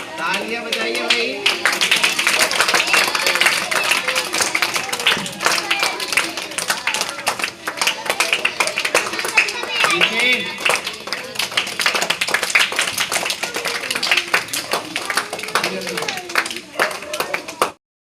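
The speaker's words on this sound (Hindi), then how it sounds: "तालियां बजाइए भाई" Audience of school students clapping at an Eco Club child cabinet formation, lively uneven hand claps continuing for about seventeen seconds, loud and close, with some voices mixed in.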